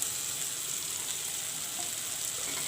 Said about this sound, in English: And let the masala fry.